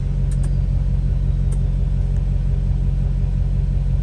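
An LBZ Duramax diesel engine with its turbo, heard after a vane-control switch is flipped, holds a steady, loud low rumble with a constant droning tone and a few faint higher ticks, no talking.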